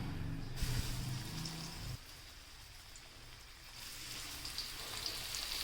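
Mackerel (bangda) fish frying in oil over a low gas flame, a steady soft sizzle and crackle that stays fairly quiet throughout.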